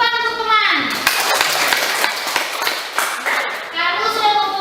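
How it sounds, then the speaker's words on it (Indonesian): Children clapping in a classroom, a burst of applause from the class between stretches of children's voices talking. "Tepuk tangan untuk teman."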